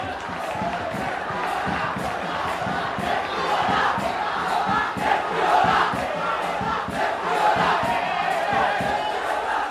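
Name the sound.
rugby match crowd cheering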